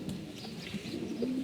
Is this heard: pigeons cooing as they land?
yes